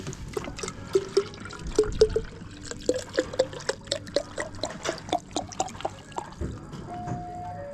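Water being filled into a bottle during a cold bicycle trip, a run of quick rhythmic gurgling glugs and trickles rising in pitch as the container fills, close and fairly quiet with no talking.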